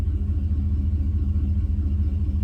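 An old AMC Rambler Wagon engine idles with a low, steady, slightly uneven rumble, heard close and continuous with no voices over it.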